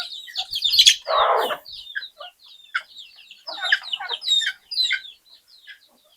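Free-range deshi chickens cluck and chirp in a busy, overlapping series of short calls, with one louder burst near the start, heard fairly close on a farm.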